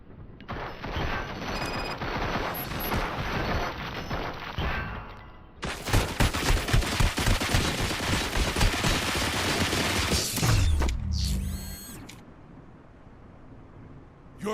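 Rapid gunfire volley in the video game RoboCop Rogue City, a dense, loud burst of automatic weapons and blasts sustained for several seconds, then cutting off into a quieter rumble with a brief mechanical tail.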